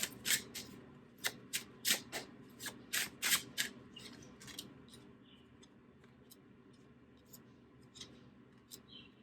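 Tarot cards being shuffled and drawn: quick, crisp riffling bursts in a close, quiet room, then sparser soft flicks and slides as individual cards are pulled.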